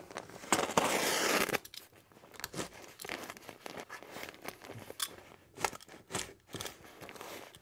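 A utility knife slices through material resting on a cutting block, starting with one loud, long scraping cut and followed by a run of shorter crunchy, tearing strokes close by. No one speaks.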